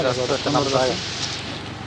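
Steady rain falls in the Salalah area of Oman with a soft, even wash of droplets, faint and continuous behind a voice talking over the first second.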